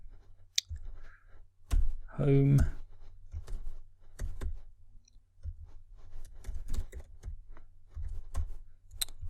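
Clicks of typing on a computer keyboard come in irregular close bursts over steady background hum, with a short burst of vocal sound partway through.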